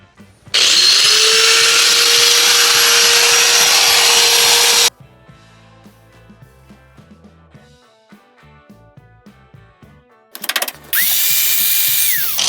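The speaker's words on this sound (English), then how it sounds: "we're gonna angle grinder it and hope for the best" An angle grinder cuts metal on the front end of a 3rd Gen 4Runner. It gives a loud, close, sustained high whine for several seconds, then falls quiet with faint clatter before a second burst starts.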